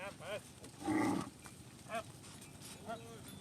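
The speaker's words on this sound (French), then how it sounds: "Alors vous voyez, il y a certaines vaches qui sont maigres, bien sûr." Zebu cattle in a village in Isan, Thailand, give several moos, one longer and louder low call among shorter ones, with a voice talking nearby.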